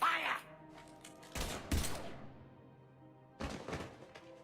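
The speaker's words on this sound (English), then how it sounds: "Now open fire!" Gunfire in a video game comes as two short, punchy bursts of shots, with game dialogue voices in between.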